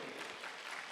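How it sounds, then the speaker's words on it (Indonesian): Audience applause at a business event in Indonesia, a brief wash of dense clapping from a crowd, steady and moderately loud. "Tepuk tangan yang meriah Bapak Ibu"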